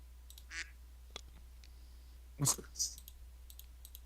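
A duck quacks loudly twice in quick succession, with a few faint clicks scattered before and after in an otherwise quiet space.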